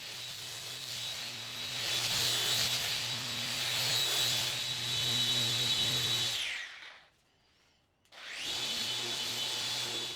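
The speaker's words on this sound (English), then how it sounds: "next I'll use an aggressive 40 grit disc on the orbital sander" An orbital sander fitted with an aggressive 40-grit disc grinds loudly across scrap wood in a rough, continuous roar. It cuts out for about a second, then starts up again.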